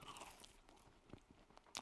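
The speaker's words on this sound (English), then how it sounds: "It's a little bit crunchy because it's a few days old, but that's tasty." Crunchy bites and chewing on a stale, few-days-old green-frosted donut, close up, with a couple of sharp crunches standing out between softer mouth sounds.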